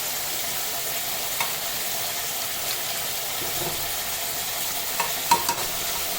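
Mutton sizzles in a pan with ginger-garlic paste, green chilies and salt, a steady close frying hiss broken by occasional scrapes and knocks of stirring.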